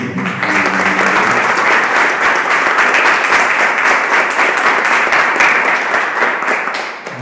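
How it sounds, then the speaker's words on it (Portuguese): A church congregation at a Sunday service bursting into loud, sustained applause, a thick continuous roar of many hands clapping that holds steady and then tapers slightly at the close. "Uma salva de palmas, né?"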